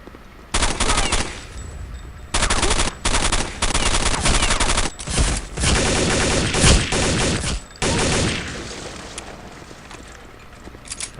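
Bursts of automatic gunfire from Counter Strike Condition Zero, loud and close, fired in repeated sustained volleys with short gaps between them and a sparse tail at the end.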